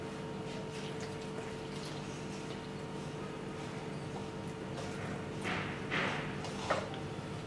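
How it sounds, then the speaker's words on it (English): Water is poured into flour while kneading Gujarati thepla dough: a low background with a few soft splashing bursts near the end, and nobody speaking. "So here I've taken about 400 mils of water."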